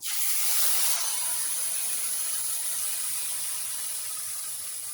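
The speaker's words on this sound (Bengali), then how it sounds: "আর এই যে সর্ষে বেটে রেখেছিলাম সর্ষে পোস্ত এইটা এবার এর মধ্যে ঢেলে দেবো" Mustard and poppy seed paste hits a hot pan with a loud, sharp sizzle that flares at once, then settles into a steady, fading hiss for the rest of the span.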